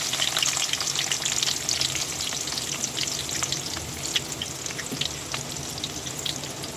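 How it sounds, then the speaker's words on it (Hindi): Onions fry in hot oil in a kadai as part of a chicken biryani, giving a loud, dense, continuous sizzle with crackling spits. The sound stays close and even throughout, and no one speaks. "उसी कढ़ाई में हमने तेल को गरम कर लिया है"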